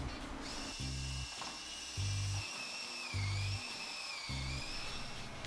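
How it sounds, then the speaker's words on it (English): Power drill whining in short repeated bursts, each lasting under a second, with a steady high-pitched tone running throughout the clip. "drill all the way through this"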